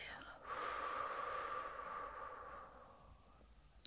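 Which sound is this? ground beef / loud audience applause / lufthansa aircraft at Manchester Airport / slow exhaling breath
slow exhaling breath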